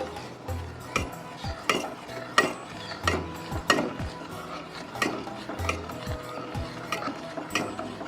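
Sugar being stirred in a pan to dissolve it for millet laddu syrup, with a spoon clinking and scraping against the metal in a steady, uneven rhythm of close, bright knocks.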